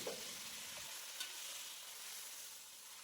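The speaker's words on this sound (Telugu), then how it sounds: "ముందుగా సన్నగా తరిగి పెట్టుకున్న టమాటాలు వేసి బాగా కలపండి" Finely chopped tomatoes are stirred into a frying pan for a dry prawn curry, producing a faint, steady sizzling hiss with a soft stir near the start.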